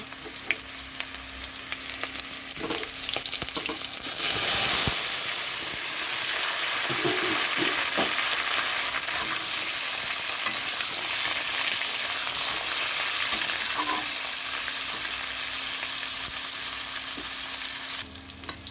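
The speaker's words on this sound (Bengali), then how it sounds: "এখানে আলু আর কলাটা দিয়ে দিচ্ছি ভাজার জন্য" Potatoes and plantain frying in hot oil seasoned with bay leaf, chilli and five-spice, a loud continuous sizzle that holds steady throughout, with a few stirring clinks.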